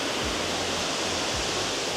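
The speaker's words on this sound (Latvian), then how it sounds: "Ūdens kritums ir te." A waterfall at Villa Gregoriana roars from below as a dense, constant rushing wash of falling water, loud and close, with no voices.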